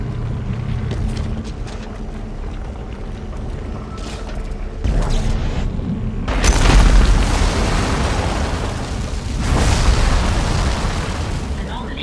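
An anomaly is destroyed in the Dead Space video game, setting off deep, rumbling booms that swell several times over a steady low game hum, with a voice speaking now and then.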